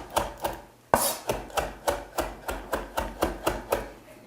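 Knife chopping a pile of fresh cilantro on a board, about a dozen crisp, evenly spaced thuds in a steady rhythm, close and clear with no talking.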